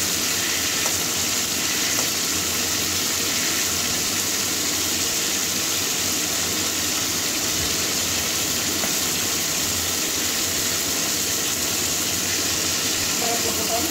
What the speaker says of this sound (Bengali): পটলটা আস্তে আস্তে করে উল্টে পাল্টে ভেজে নেব।